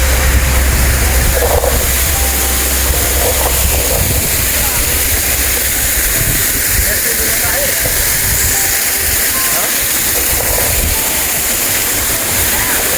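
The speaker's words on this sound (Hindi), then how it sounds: "ये मुज़फ़्फ़राबाद कश्मीर में आबशार हैं" Steady rushing water fills the clip, a constant broadband roar of a waterfall in Muzaffarabad, Kashmir, with faint voices now and then underneath.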